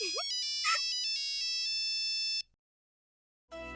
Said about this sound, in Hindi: नैतिक जी का फोन है।